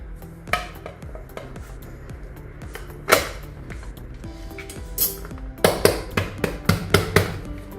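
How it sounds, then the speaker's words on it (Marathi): A knife runs around the sides of a tin to free a freshly baked eggless carrot cake, making soft scraping with scattered sharp metallic taps and clicks. The taps grow denser toward the end, close up, with no one talking. "सुरीने थोडंसं साईडनी सोडवून घ्यायचं।"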